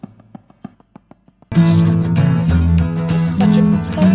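A rock song plays from a multitrack recording. A sparse, quiet rhythmic tapping part gives way to all tracks entering together in a loud, dense full-band mix.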